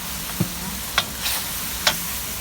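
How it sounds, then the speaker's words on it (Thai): Chili and crispy pork stir-fry in a hot pan, a constant loud sizzle broken by four sharp scraping clanks of a spatula at irregular intervals, close up with no talking. "ผัดพริก นี่เป็นหมูกรอบเลยรวมหมูกรอบด้วย"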